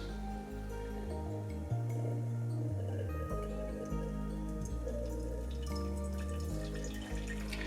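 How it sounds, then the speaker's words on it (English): Hot water poured into a French press for coffee, a quiet continuous trickle and splash with shifting pitch as the glass fills, faint and close, with no talk. "This initial pour is just to get everything heated up."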